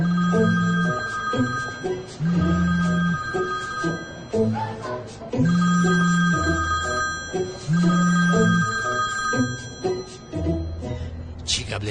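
An old-style telephone bell rings in repeated regular bursts, loud and close, with short pauses between rings over about twelve seconds.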